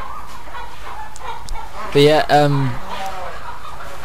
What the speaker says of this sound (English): Shut up, chickens, cows, and whatever you are.